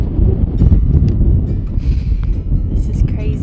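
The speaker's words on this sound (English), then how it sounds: "it is very windy" Strong wind buffets the microphone at a mountain roadside stop in Scandinavia, a loud continuous low rumble with gusty swells throughout.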